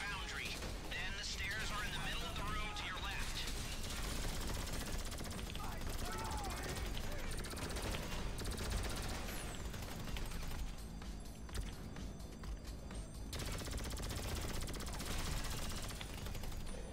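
GTA Online gunfire rattles steadily as rapid automatic bursts and shots pile up over dense game noise, loud and continuous, with a voice talking over it.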